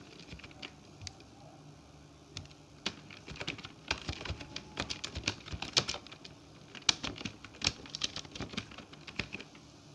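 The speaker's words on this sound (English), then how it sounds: "Like I'm going to type now." Typing on a computer keyboard during a typing-speed practice test: rapid, irregular clicking keystrokes, close and fairly loud, sparse at first and then dense bursts without any talk.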